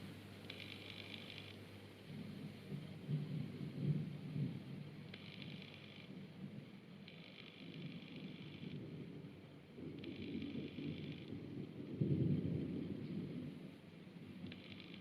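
Low thunder rumbles through a lightning storm in Negril, Jamaica, the broadband roar swelling and fading over steady background hiss, with a stronger burst near the end, heard at a distance with no voices.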